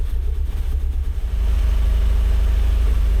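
Mazda Miata engine idling with a slight stumble, a steady low drone close up whose rhythm turns uneven and sputtery in the first second before settling into a smoother hum.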